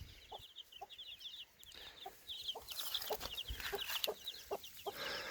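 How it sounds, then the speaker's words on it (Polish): Chickens cluck repeatedly in short, irregular calls, moderately close, over a soft outdoor background with some faint chirping. "Ale kurczaki wszystkie wracają od razu."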